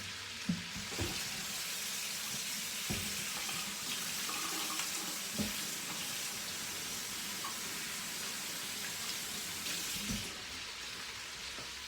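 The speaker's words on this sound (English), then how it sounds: "let me just rinse off my hands real quick" A kitchen tap runs steadily into a sink while hands are rinsed beneath it, a continuous broad splashing wash with a few soft knocks and clunks from the basin, no voices.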